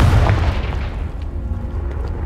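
A Confringo blasting spell explodes in the video game Hogwarts Legacy, one loud, deep boom at the start that rolls off into a rumbling decay.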